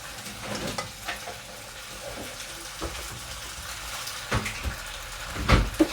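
Pesto pasta being stirred in a pan, soft scraping and wet mixing sounds with a few sharper clinks and knocks near the end, close and moderately loud, no talk.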